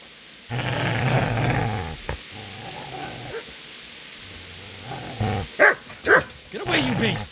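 A dog in the medieval video game Kingdom Come: Deliverance growls and barks, beginning with a long, snarling growl, then a run of sharp, close barks, with game dialogue heard alongside.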